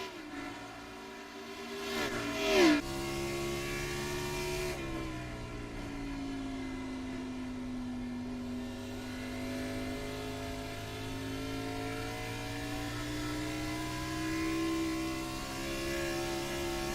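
A race car engine drones at sustained high revs during a late-race lap, one steady tone that shifts slightly in pitch as the car passes and holds speed.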